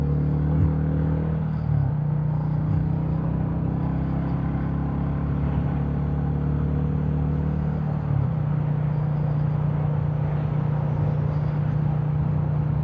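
A Royal Enfield Classic 350 single-cylinder engine rumbles low and steady while riding, the exhaust note dropping and shifting as it slows under compression braking, close and continuous with wind underneath and no speech.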